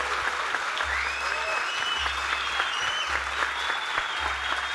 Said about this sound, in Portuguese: queria pedir uma salva de palmas para esses craques